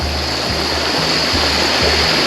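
Rushing water pours steadily from Ellagala Waterfall in Sri Lanka, running low, a loud, dense broadband roar close by with a faint low rhythmic thumping underneath.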